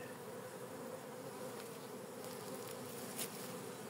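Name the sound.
honeybee colony buzzing at hives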